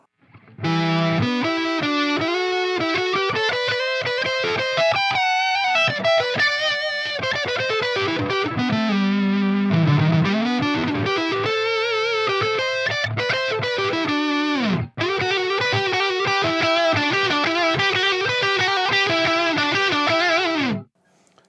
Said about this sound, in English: Here's a sound that I came up with that's just a basic octave and a third